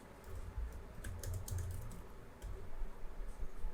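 Fast typing on a computer keyboard while writing code, a steady run of soft close key clicks in a quiet room.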